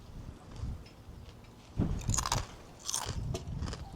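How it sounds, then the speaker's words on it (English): Crunchy chips being bitten and chewed close to the mic. Crisp, uneven crunches come in two bursts over low background noise, with no talking. "Just eating chips."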